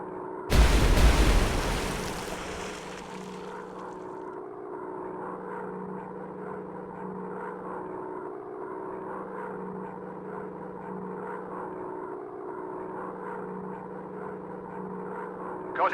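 A WW2 fighter dogfight in a video game opens with a sharp, loud explosion burst, then a steady droning propeller engine hums on alone for the rest of the stretch.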